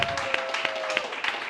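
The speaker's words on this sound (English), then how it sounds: "Start clapping right now" A live comedy panel audience breaks into steady applause, with many hands clapping in a dense, fairly close wash for a comedian, with brief voices faintly mixed in.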